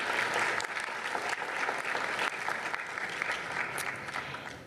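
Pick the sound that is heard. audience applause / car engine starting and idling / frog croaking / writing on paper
audience applause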